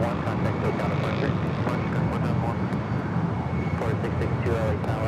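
An airliner taking off from runway 24 left at LAX: a broad, steady jet roar that stays loud throughout, with radio chatter heard over it.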